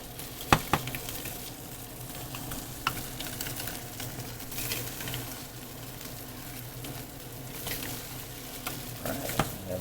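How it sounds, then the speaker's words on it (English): Burger patties fry in a pan with a soft, constant sizzle, punctuated by a few sharp spatter pops and clicks as they are turned, heard close and fairly quiet. "let's turn these burger patties. Nice and brown,"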